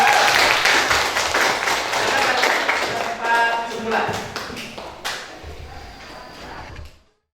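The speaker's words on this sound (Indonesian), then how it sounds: "berikan tepuk tangan yang meriah untuk" Classroom applause during a school tolerance lesson, loud dense clapping that thins and fades over several seconds, with a few brief voices, before stopping abruptly.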